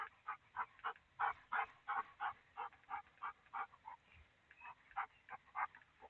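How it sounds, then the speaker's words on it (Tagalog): A dog barks over and over in a steady, rapid series of about twenty barks, moderately distant and slightly muffled, with no talking over it. "Lagi may aso. Yan, may aso."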